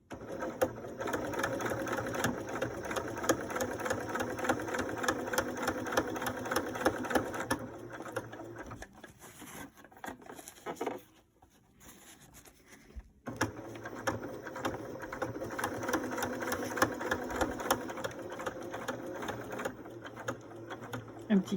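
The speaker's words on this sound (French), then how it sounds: "Et on va coudre là, là, et s'arrêter là pour laisser évidemment la place d'insérer le petit morceau de métal." A sewing machine stitches a fabric face mask in a steady, fast mechanical whirr that pauses briefly midway, then resumes its close, even rattling run.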